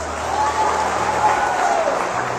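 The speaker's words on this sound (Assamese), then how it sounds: "হাঁহিবলগীয়া নহয় তালি বজাবলগীয়া" An audience clapping, a steady wash of applause from a crowd that holds at an even level throughout.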